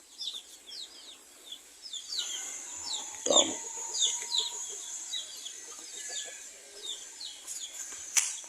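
A mother hen brooding a large clutch of eggs on a farm makes soft, repeated clucks, with a few sharper calls and scattered high chirps in a quiet setting.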